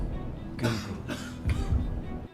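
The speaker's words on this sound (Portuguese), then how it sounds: "a tosse é muito seca" A dry cough comes from someone in a studio audience, two or three short, rough bursts spaced unevenly over a couple of seconds, close and fairly clear.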